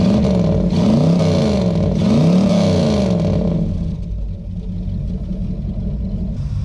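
A 1969 Lincoln with a 460 V8 rumbles loud and close, revving twice in swelling surges before settling back into a lower, steady idle.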